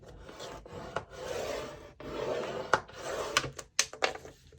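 Paper being scored for a mini album makes a soft, continuous scraping rasp in several short strokes with brief gaps between them, plus a few light clicks near the end.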